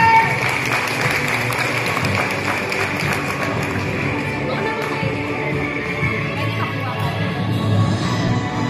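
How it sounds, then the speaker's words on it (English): An audience at a family celebration claps hands in a steady, dense patter that carries through the whole stretch, with some voices murmuring underneath. "everybody clap your hands!"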